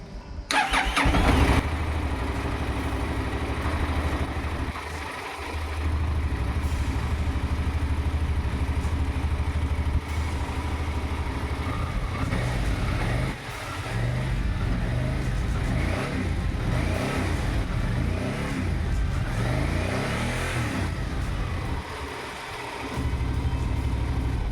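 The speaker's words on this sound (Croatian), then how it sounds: "Nakon što smo sipali 3 litre, startujemo motor." A Yamaha TDM 900 motorcycle cranks and fires up after an oil and filter change, then settles into a steady idle with a few revs rising and falling over the run. It is close and alone, with no talk.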